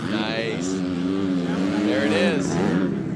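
A Honda 250F dirt bike engine revs hard as it takes off at a hill climb, a loud, steady buzzing roar that rises in pitch, with a voice talking over it.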